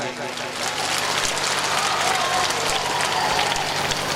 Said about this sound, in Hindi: उन्हें तालियों के साथ उनको धन्यवाद देना चाहिए